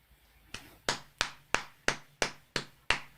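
A single person gives a slow clap, eight sharp, evenly spaced hand claps about a third of a second apart, close and distinct against a quiet background.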